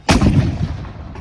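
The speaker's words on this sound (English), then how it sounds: "Cannons." A cannon fire sound effect: one loud, close boom that hits sharply and rolls off into a rumbling decay over about a second.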